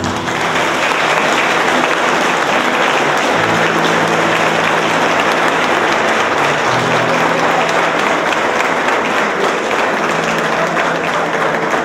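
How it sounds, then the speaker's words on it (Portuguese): Guests at a diamond wedding anniversary celebration break into sustained applause, a dense, loud wash of many hands clapping that holds steady for about twelve seconds with no speech. "Por favor, aplaudam."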